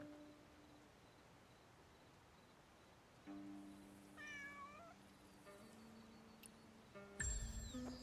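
A kitten meows in the game Where Winds Meet, a few thin rising cries over quiet ambience with soft tones and chimes, ending in a brief louder clatter.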